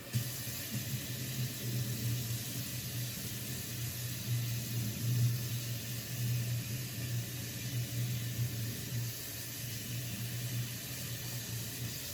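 Warm water pours steadily from a tap into a sink, a continuous hissing rush with a low gurgling hum underneath, close by and unbroken.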